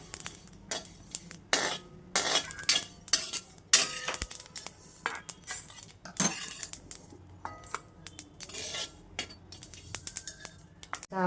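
Roasted food is scraped and spooned into a dish with quick, repeated metal clinks and scrapes of a utensil against cookware, close and busy throughout.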